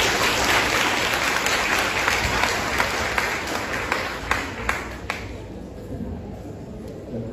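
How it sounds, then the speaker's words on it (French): At a graduation and diploma ceremony, a large audience bursts into loud, sustained applause that gradually thins out to a few scattered claps at the end. "Applaudissez Talent"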